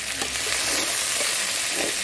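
Broiler chicken stew sizzling and frying in a pot while being stirred, a continuous dense hiss with faint scraping, close and steady with no talking.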